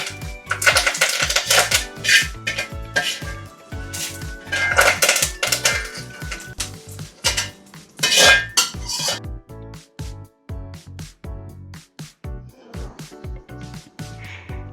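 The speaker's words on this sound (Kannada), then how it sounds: "ಸೊ ನಾನು ಇವಾಗ ಒಂದು ಪ್ಲೇಟ್ಗೆ ಹಾಕ್ಕೊತಾ ಇದ್ದೀನಿ" Fried cooking ingredients for vatha kulambu being scraped and tipped from a pan onto a plate, a series of clinking metal-on-metal and dish knocks, close and irregular, with brief pauses between bursts.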